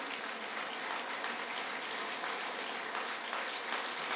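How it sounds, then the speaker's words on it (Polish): Audience applause at a Polish folk song and dance festival talent stage, dense continuous clapping from a crowd, steady and fairly loud with no talk over it. "Burza oklasków, proszę Państwa."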